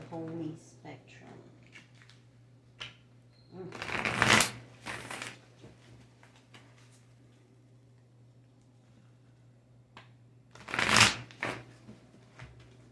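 Tarot cards are shuffled in two quick riffling bursts, separated by several seconds of quiet handling, soft taps and a low background hum.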